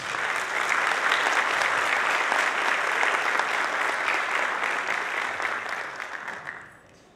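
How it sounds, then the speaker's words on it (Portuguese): A ceremony audience at the 2018 Destaques do Ano awards night claps in sustained, dense applause that holds steady, then thins and fades out in the final second. "Vamos aplaudir"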